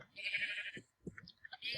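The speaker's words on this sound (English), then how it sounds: "Hello, sheep." Sheep bleats from the game Minecraft, modded FTB Infinity pack: a long, wavering, nasal bleat up close, then a pause followed by a few short, clipped bleats and a final sustained one, with no talking.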